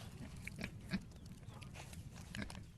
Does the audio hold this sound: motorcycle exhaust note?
no